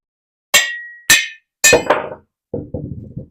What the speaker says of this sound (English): basically what we do here is I just take a hammer